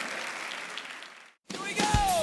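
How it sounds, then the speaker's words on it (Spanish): A church congregation applauding for God, a moderate clapping wash that cuts off briefly and resumes with a spoken voice over it. "Dale un aplauso a Dios"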